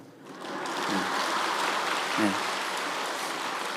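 Villagers applauding a returning young man along a roadside, heard as a steady broadband wash of many hands clapping at moderate distance, continuous for a few seconds with a couple of brief voice bursts rising above it.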